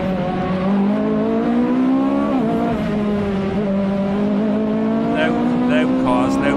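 Loud cars and motorbikes speed past in a played-back video, with a continuous roaring engine note that rises in pitch and dips as gears change, and people talk over it.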